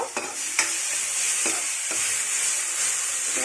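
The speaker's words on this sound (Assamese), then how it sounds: "ইয়াৰ মাজতে এবাৰ লাৰি দিব" A spoon stirs brinjal and dried fish curry in a pan, with a few scraping strokes over a steady, close sizzle.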